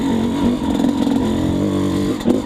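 A motorcycle fitted with a Keihin PWK Airstriker 36S carburetor and JD jetting kit revs hard in second gear without the clutch, a loud continuous engine drone with rising and falling pitch close by.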